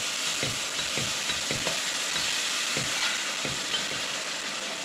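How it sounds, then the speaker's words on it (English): Semolina (soji) being stirred in a hot pan, a continuous soft sizzle with rhythmic scraping strokes of the spoon repeating every half second or so, steady and fairly quiet. "Go slowly, gently, while I keep stirring and stirring and stirring, so don't form into lumps."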